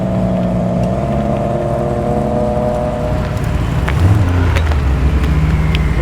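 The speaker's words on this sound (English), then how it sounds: "There goes the Nissan GTR that we were looking at earlier." A Nissan GT-R drives off from a car show in Tempe, Sydney, its engine rumbling loudly nearby, rising in a brief rev as it pulls away past the listener.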